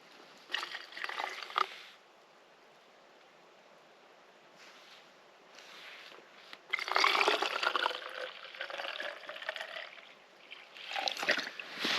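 Water pouring out and splashing from a container, a close rushing spill that comes in irregular bursts, with a quieter stretch in the middle and a heavier surge toward the end.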